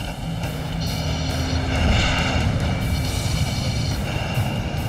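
An airplane comes in to land with a loud, steady engine drone that swells slightly midway and holds without any voices.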